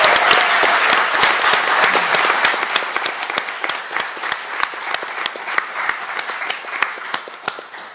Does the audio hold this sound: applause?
yes